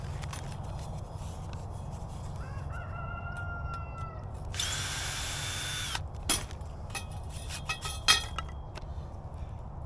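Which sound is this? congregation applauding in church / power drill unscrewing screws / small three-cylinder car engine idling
power drill unscrewing screws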